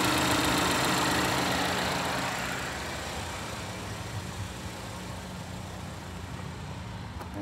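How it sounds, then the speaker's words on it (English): A 2016 GMC Terrain SLE idles steadily, a smooth even engine hum that starts a little louder and settles slightly quieter, with no talking. "You can hear the engine running nice and smooth."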